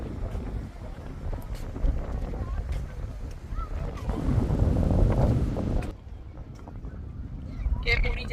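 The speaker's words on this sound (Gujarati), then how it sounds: "કેમ ઉડી જાય એટલો પવન છે દોસ્તો" Strong cold wind at Wascana Lake in Regina buffets the microphone with loud, shifting rumble. It swells hardest in the middle and then drops back to lighter gusts, with a voice faintly in the background.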